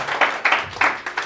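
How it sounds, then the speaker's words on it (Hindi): Short burst of applause for a teacher during a physical training session, a few rhythmic clapping swells close by. "तालियां बजा दो एक बार सर के लिए।"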